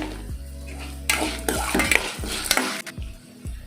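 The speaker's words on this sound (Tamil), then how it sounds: "1 கப் தேங்காய் துருவல். நல்லா அதையும் வதக்கணும்." Grated coconut is sautéed with dried red chillies in a pan, with a spoon stirring and scraping against the metal and a light sizzle in short, close bursts over a low background tone.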